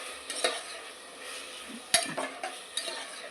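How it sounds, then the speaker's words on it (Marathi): Vegetables being sautéed in ghee in a pan, with a faint, steady sizzle and several sharp clinks and scrapes from a spoon stirring against the pan. "भाज्या पण छान अशा तुपामध्ये परतवून घ्यायच्या"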